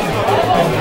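A crowd of people chattering around a Tecmo football tournament game, a dense indistinct babble of many voices close by.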